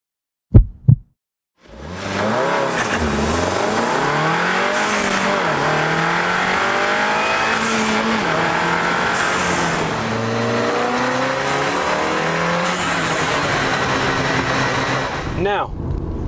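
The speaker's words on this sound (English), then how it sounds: "This video is about launch control." A Volkswagen Golf R with a manual gearbox launches hard, its engine roaring up through rising, shifting sweeps after a couple of sharp clicks, loud and continuous from inside the car for about fourteen seconds.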